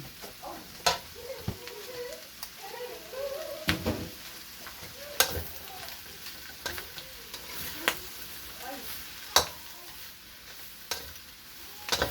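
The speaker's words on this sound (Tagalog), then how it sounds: "Ngayon, itabi natin at gisahin din natin yung mushroom." Mushrooms sauté in a lightly oiled pan for spaghetti carbonara, a soft steady sizzle broken by scattered clinks and scrapes of stirring, close and fairly quiet.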